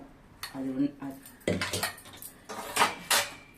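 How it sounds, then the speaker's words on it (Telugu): Boiled lentils mixed into a bottle gourd sambar in a pot, with repeated clinks and scrapes of a metal spoon against the vessel and a voice talking between the knocks. "ఈ పప్పుని ఇప్పుడు ఇందులో మిక్స్ చేసి పెట్టుకుంటాం"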